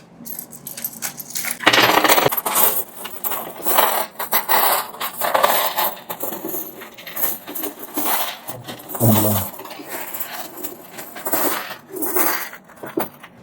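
Sri Lankan 10 rupee coins pour out of a money box in a loud, continuous metallic cascade of clinking and jingling, surging in bursts over about thirteen seconds, with brief voices nearby.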